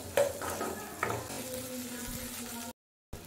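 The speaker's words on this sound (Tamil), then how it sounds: "பூண்டும் வெங்காயமும் நல்லா வதங்கணும்," Garlic and small shallots sautéing in a pan for a Tamil turkey berry kuzhambu, a low steady sizzle with a few stirring scrapes and a faint hum, cut off abruptly before a brief return.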